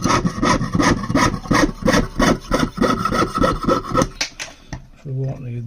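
A waxed hand saw blade cuts extra bits off sterling silver handmade pendant pieces with rapid, rhythmic rasping strokes up close, then stops, and a brief faint tonal rattle follows.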